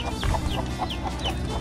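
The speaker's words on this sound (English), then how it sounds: "Oh, this is my chick that hatched the other day" Farm chickens with a newly hatched chick nearby, a run of repeated short clucks and chirps over steady background noise, fairly close, no talking.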